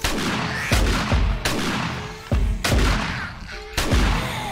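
Shotgun blasts from the video game 7 Days to Die, fired at zombies: several loud booming shots spaced about a second apart, each with a sharp onset and a lingering rumbling tail.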